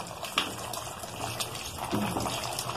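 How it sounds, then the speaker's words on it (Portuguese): Hot water poured over pasta in a pan and stirred, a faint, steady liquid splash and gurgle with a few light scrapes, close and quiet. "colocar nossa água quente e mexendo até cobrir esse macarrão"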